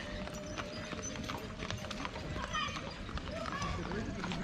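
Horse hooves clip-clop at a steady walking pace near a castle in Niasviz, Belarus, with street ambience and faint voices around.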